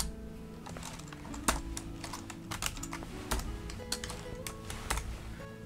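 Computer keyboard typing during circuit editing with shortcut keys, a quick run of crisp, irregular key clicks and taps, close and clear with no talking.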